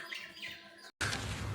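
Pet sparrows kept at home chirp faintly, thin short tweets scattered over a low background hiss, with no voices.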